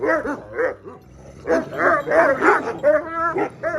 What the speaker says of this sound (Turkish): ihtiyar da basit bir köpek değil ama Kıtmir'le kesinlikle başa çıkacağını zannetmiyorum